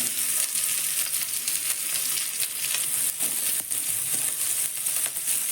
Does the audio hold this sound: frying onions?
yes